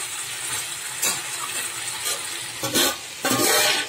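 Mutton and potatoes are stirred and fried in a pot, a loud close sizzle punctuated by a few distinct scraping sweeps of a spoon against the metal.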